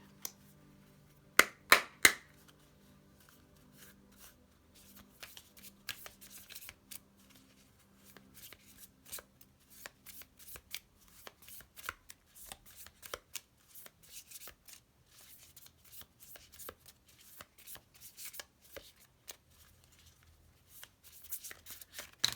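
A deck of Gentle Chaos oracle cards is shuffled by hand, a few sharp riffles at first, then a long run of quick, quiet flicking and slapping of cards close by.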